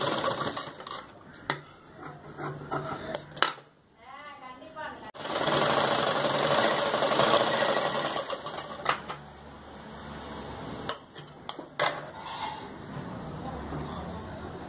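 A sewing machine stitches fabric for body stitching, running in fast mechanical bursts with a short pause midway, while a person talks over the whirring needle.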